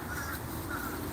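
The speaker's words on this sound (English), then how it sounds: "I actually love crows. They may be ravens though," Faint caws of crows come through a noisy outdoor background, a couple of brief harsh calls in quick succession.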